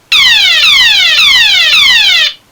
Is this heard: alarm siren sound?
yes